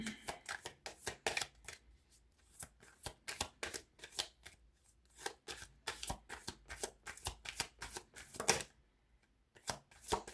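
Tarot cards being shuffled up close: a run of quick, crisp riffling bursts repeating irregularly, with short pauses between shuffles.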